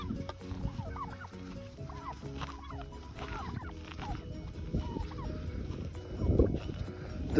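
Turkeys gobble and cluck repeatedly in a village while hunting snakes, the calls overlapping in a busy, moderately close flock amid rustling outdoor noise.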